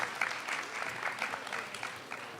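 An audience at a high school spoken word poetry event applauds a poet, a fairly quiet, even spread of clapping from a modest crowd that holds steady throughout.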